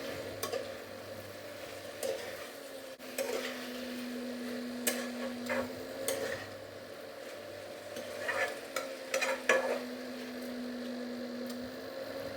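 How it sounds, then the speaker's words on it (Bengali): Boiled green jackfruit stirred with spices in a pan, a steady low sizzle with scraping stir strokes and occasional utensil clicks over a faint mains hum throughout. "দিয়ে আবার মশলার সাথে এগুলো বেশ ভালো করে আমি কষিয়ে নেব।"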